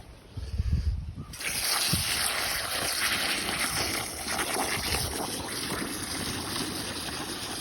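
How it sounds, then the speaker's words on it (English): Water pouring into a planting hole dug for a fruit tree, a steady hissing splash and trickle that starts after a short quiet, continuous and close. "So you fill up with water."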